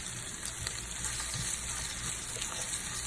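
Whole spices sizzling and frying steadily in hot oil for pakodas, a continuous close crackling hiss with no talk.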